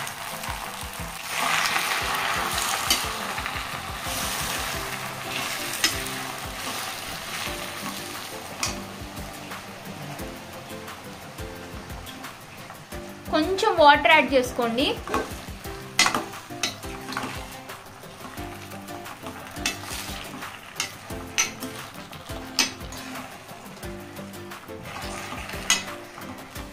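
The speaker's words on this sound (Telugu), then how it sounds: "గోంగూరని ఆయిల్లోకి ట్రాన్స్ఫర్ చేసేసుకోండి." Gongura leaves sizzle in hot oil for Andhra gongura pachadi, a steady frying crackle under clinks and scrapes of stirring, with a louder burst of spitting midway and a brief spoken line.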